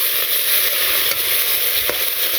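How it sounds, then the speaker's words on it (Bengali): Bitter gourd (ustha) sizzles as it fries in hot oil with already browned potatoes in a village kitchen. The frying hiss is constant and loud, with occasional soft stirring clinks and no talk. "উস্তাগুলো একটু ভেজে নিই।"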